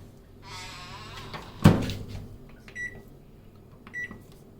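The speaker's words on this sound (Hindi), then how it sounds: "चलिए जी, रखती है इसको ओवन में।" A pizza slid into a preheated oven at home: a soft scrape, then a sharp metallic clunk of the oven door or rack, followed by a few quieter clicks and light bumps.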